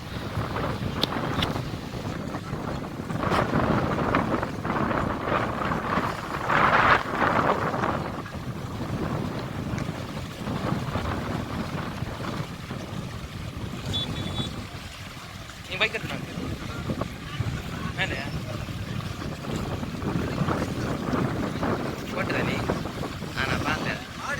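Strong cyclone wind sweeping Colachel harbour among fishing boats during Cyclone Ockhi: a continuous, loud roar buffeting the microphone, with gusts rising and falling while a voice talks underneath.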